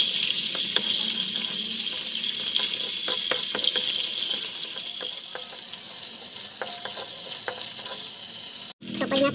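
Chicken skin frying in coconut oil gives a steady, close sizzle with scattered crackles and pops, broken by occasional stirring clinks, and a brief break near the end; no one talks.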